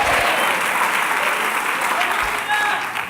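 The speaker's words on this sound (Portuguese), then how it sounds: "Por favor, dê um aplauso ao Senhor" A church congregation claps loudly and steadily for the Lord during a bishop's service, a dense wash of many hands that holds throughout and eases slightly at the end.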